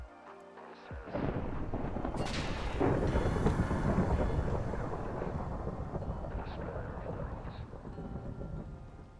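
A lightning strike in Minecraft lands with a loud, close crack, then swells into a heavy rolling rumble that fades slowly over several seconds, with no talking.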